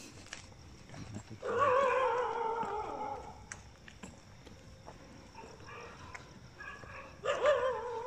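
Dogs bark in a village at night, with a loud drawn-out burst of barking and yelping lasting about a second and a half, then a shorter burst near the end, over a quiet, hissy background.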